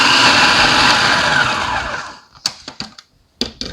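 Blender whirling cookie crumbs with melted butter, a loud steady whirring motor that runs for about two seconds and then stops, followed by a few short clunks and knocks.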